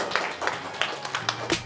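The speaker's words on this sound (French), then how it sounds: "Et vous pouvez applaudir le vainqueur." Scattered claps and brief cheering from a crowd at a Japanese robot fighting contest, greeting the winner of the bout. Short, moderately loud and uneven bursts, with some voices mixed in.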